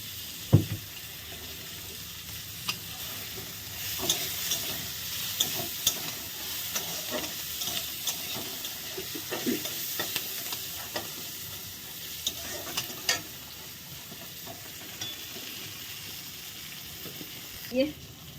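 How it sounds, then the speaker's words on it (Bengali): Garlic and green chillies fry in a pan with black cumin seeds. A soft, low sizzle runs throughout, broken by occasional light stirring clicks and scrapes, fairly quiet and close. "রসুন কাঁচা লঙ্কাটা একটু ভেজে নেই"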